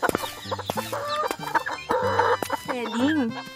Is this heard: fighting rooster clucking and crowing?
yes